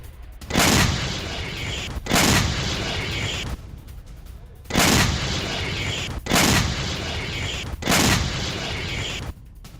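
Several heavy blasts from a mortar attack on Ukrainian positions in the war with Russia, about five loud booming impacts spaced a second or two apart, each with a rumbling tail, no voices.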